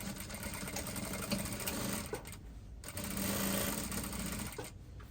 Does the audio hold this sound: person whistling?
no